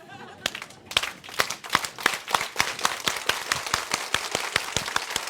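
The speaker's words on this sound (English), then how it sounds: "the warmest hand in the way of an Oriflame clap" An audience at an Oriflame Global Leadership Council 2020 event claps in unison, with sharp, evenly spaced hand claps repeating steadily and loudly, with no talking.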